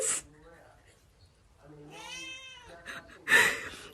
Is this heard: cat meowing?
yes